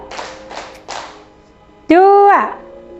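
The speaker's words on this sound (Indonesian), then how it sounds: "Tepuk dua, tepuk tiga, tepuk satu," Classroom children clap in a call-and-response rhythm game: three quick bursts of group clapping, then a teacher's sung call rings out clearly over the room.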